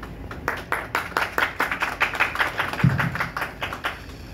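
Audience claps for a correct answer at a history quiz competition in Neemkathana, with dense, steady clapping from a room of people, moderately loud and continuous throughout.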